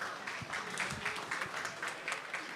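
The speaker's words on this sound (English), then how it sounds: "big round of applause for Christina" Faint, brief clapping at a wedding reception for Christina, with a few distinct hand claps audible within a light, scattered round of applause.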